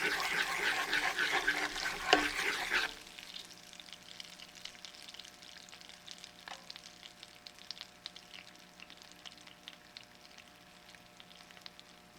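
Loud, crackling sizzle of butter browning in a pan for a few seconds, then the noise drops abruptly to a much quieter, faint fizzing.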